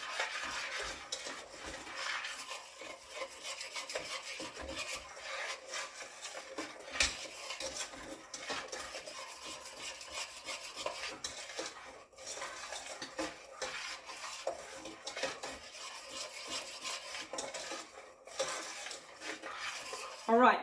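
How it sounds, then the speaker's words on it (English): Spoon stirring a liquid fudge mixture in a pot, continuous scraping and rubbing strokes against the metal, fairly quiet and steady. "Let's get this stirred up now."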